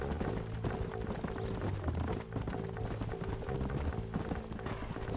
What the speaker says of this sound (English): Is that horses?